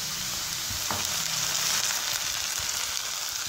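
Ginger garlic paste frying with onions in a pan for a spicy onion curry, a steady close hiss and sizzle running throughout with faint stirring scrapes.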